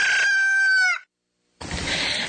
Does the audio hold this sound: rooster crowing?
yes